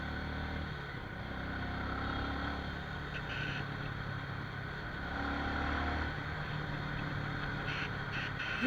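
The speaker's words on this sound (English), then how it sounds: "You guys can probably hear the sound of engine when I keep quiet." A motorbike engine drones steadily while riding through rain, a low continuous rumble mixed with wind and road noise, no voices.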